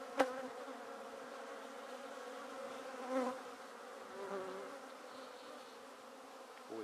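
Honey bees drone in a steady, close, moderately soft hum at an open pagoda hive while the queen moves across worker brood, with a few brief louder swells.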